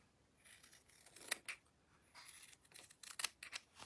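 Scissors snip through fabric scraps up close: a handful of quiet, crisp cuts scattered over a few seconds in a hushed room.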